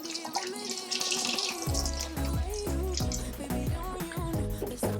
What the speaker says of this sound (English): take out the drawer and then empty out any water